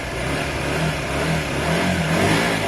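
Small 125cc Tweed Twin motorcycle engine running close by, a steady mid-pitched drone with mild swells of revving throughout, no voices.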